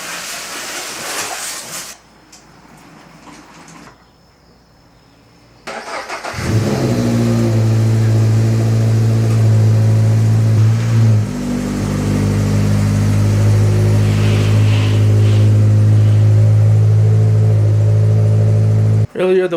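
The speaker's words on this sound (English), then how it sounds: "let's get this car pulled into the garage" A Subaru BRZ sits quiet at first; then its engine fires up and runs loud and close with a steady, even drone as the car pulls into a garage, ending with a sudden cutoff.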